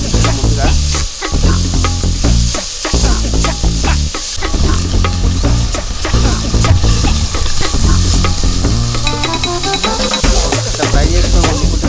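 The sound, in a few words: dried shrimp frying in oil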